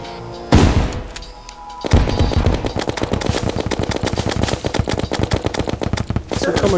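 Rapid automatic gunfire from a weapon in Terraria, loud and dense bursts of shots with brief pauses, playing under someone speaking German throughout.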